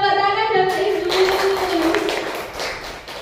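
A burst of clapping from a group of teachers at a school training session breaks out after a brief voiced tone and continues steadily, fairly loud and close, for a few seconds.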